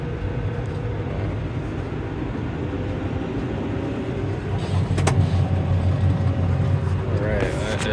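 A tractor's engine drones steadily with the PTO engaged to run a baler, a continuous low mechanical rumble with a brief clank partway through.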